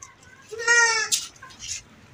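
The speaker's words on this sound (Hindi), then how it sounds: "एक ये बकरी है" A goat at a crowded livestock market calls once with a wavering bleat, fairly close, followed by brief softer animal or crowd noise in the background.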